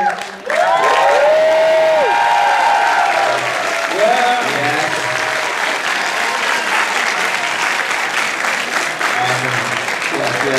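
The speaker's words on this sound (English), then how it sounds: "Everyone cheer." A convention panel audience at Anime Expo 2012 bursts into loud, sustained applause and cheering, with whoops and shouts rising at the start and clapping continuing throughout.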